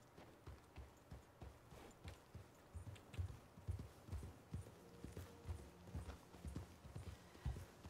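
Horse hooves walking in the video game Red Dead Redemption 2, a steady rhythmic clip-clop of many close, soft hoof falls repeating evenly throughout, with no talk.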